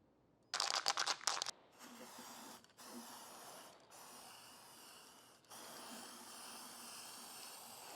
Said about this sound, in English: we're going to give the can a good shake and we're going to spray it on so we can reveal any potential cracks